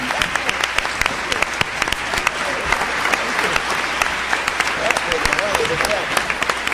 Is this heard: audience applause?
yes